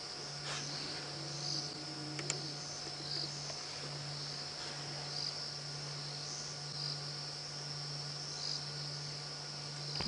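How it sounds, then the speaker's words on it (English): Steady, high-pitched cricket chirping fills a quiet night in the African bush, continuous and fairly faint, with a low hum underneath. "I can only just hear a few crickets."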